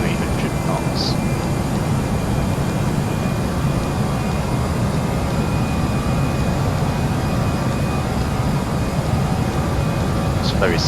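Airbus A318 engines drone steadily in Flight Simulator X as the airliner accelerates past 10,000 feet toward 300 knots, a loud, constant broadband jet roar with no breaks.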